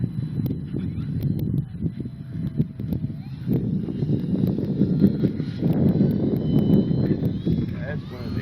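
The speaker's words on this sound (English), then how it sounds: "Okay, it's windy." Steady wind buffets the microphone at an RC flying field during an electric Piper Cherokee model's maiden flight, a continuous low rumble with gusty swells, while people talk nearby.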